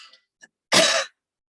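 A single short, sharp cough rises out of near silence during a group healing session, with faint throat sounds just before it.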